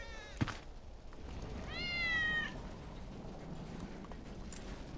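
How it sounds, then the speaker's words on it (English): Wedge's cat in Final Fantasy 7 Remake gives one clear, drawn-out meow in the middle of the clip, set against a low steady background hum with a faint click near the start. "That's Wedge's cat."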